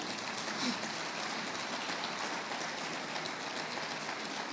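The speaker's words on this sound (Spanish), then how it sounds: "Dale un aplauso al Rey." A church congregation claps during a Spanish-language service, a continuous rain-like patter of many hands held at an even moderate level throughout, with no voices on top.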